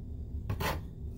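A bench scraper slides sliced zucchini across a board onto a dehydrator tray, making a short scraping rasp of about a quarter second. A quiet, steady room hum sits beneath it.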